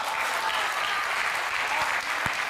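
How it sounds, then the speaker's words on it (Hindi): Audience clapping during a Hindi poetry recital about the Mahabharata, a thick continuous patter of many hands, fairly close and steady, with a few louder claps near the end. "आप तालियां जितनी घनीभूत करेंगे मैं और आगे बढ़ूंगा"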